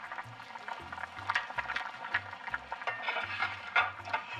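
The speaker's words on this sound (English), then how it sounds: "Give it a little stir." Boiling vegetable stew in a pot on high heat, stirred with a utensil: soft liquid churning and bubbling with light scraping and clinks, fairly close and quiet, no talking.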